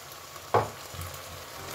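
Oil hits chicken stomach in a hot pan with a sharp hissing burst, then settles into a low, steady close sizzle.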